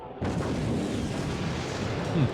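Mortar shells firing in the WARNO real-time strategy game, a dense continuous rumble of artillery booms that sets in abruptly and stays loud throughout, with voices mixed underneath.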